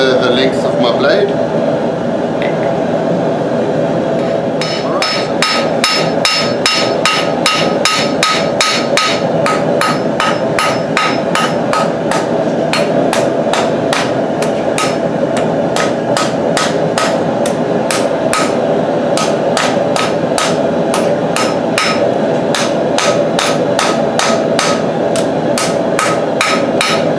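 Hammer forging a knife blade on an anvil: steady, rapid metallic strikes ringing out in a fast rhythm for most of the stretch, loud and close, over a constant background hum.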